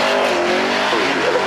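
A new twin-turbo V6 car drives past at the Goodwood Festival of Speed, a loud, dense engine roar held briefly and close, with no voices.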